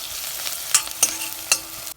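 Onions and peppers with tomato-pepper paste sizzle and crackle steadily in a hot pan, with a few sharp scraping clinks of a utensil stirring, before cutting off abruptly.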